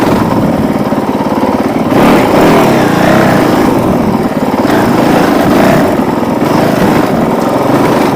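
A Honda CRF450L motorcycle climbs uphill on a dirt trail, its close, loud engine buzzing and revving in uneven surges with brief throttle dips, alone with no talk.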